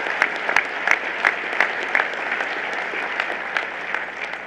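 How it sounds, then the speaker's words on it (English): An audience applauds at the 2017 Bowerman Awards ceremony, a steady patter of many hands clapping with sharper claps standing out in a regular rhythm, moderately close and without voices. "So give yourselves a round of applause"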